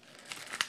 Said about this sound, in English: Plastic, but it's called poly mailer.